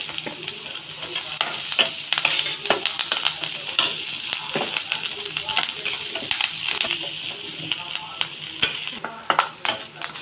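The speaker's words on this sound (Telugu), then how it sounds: "ఉల్లిపాయలు గోల్డెన్ బ్రౌన్ వచ్చినాక వేయించి కొంచెం లైట్గా సాల్ట్ కూడా వేస్తే ఉల్లిపాయలు తొందరగా వేగుతాయి అన్నమాట." Onions fry in a pan with a little salt for chicken curry, giving a steady close sizzle with frequent stirring and scraping clicks.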